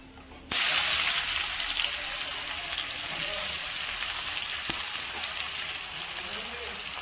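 Onions sizzling in a pan for an Odia-style chicken fry, a loud hiss bursting in abruptly after a quiet start, then a steady close frying crackle that eases slightly over time, no speech.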